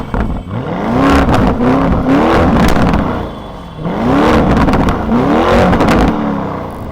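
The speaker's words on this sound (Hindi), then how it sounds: "चलो अब गाड़ी स्टार्ट कर ही ली है" A Lamborghini Urus with a 4-litre twin-turbo V8 fires up with a loud, close blare and settles briefly before a second surge of revs, the exhaust roaring and burbling between the two bursts.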